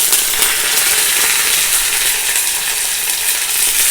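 Mustard seeds and coconut frying in a pan give a steady, loud, dense crackling sizzle with fine popping throughout, close up and with no voices.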